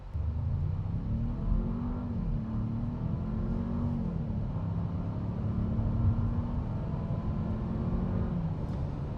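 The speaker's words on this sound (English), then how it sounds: "I really, really do enjoy the sound that exhaust gives off in the vehicle." A 2026 Jeep Grand Cherokee L accelerates from a stop, its exhaust giving a steady, rising engine drone heard from inside the cabin with no talking.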